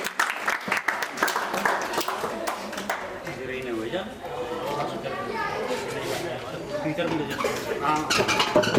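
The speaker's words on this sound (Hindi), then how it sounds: "नवानी जी का जोरदार तालियों से स्वागत कीजिए" Applause from an audience welcoming a guest at a book launch and water discussion gathering, brisk clapping mixed with murmuring chatter and voices throughout.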